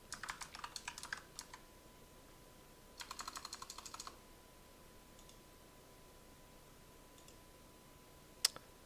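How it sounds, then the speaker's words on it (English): Quick bursts of close computer keyboard typing, a run of clicks at the start and another around the middle, separated by quiet room hiss, with one sharp click near the end. "I'm going to start typing it with just some random one"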